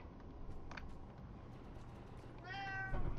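A cat meows in a game world, a short series of rising harmonic cries near the end over a steady low background hum and noise.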